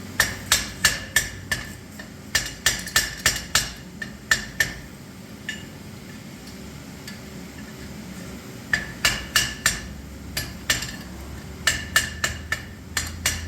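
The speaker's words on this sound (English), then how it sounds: "Again, at this point, I'm just dressing up the weld, making it look nice." Hammer blows on an anvil dress a forge-welded chain link, struck in two fast bursts of ringing metallic hits with a quiet pause between.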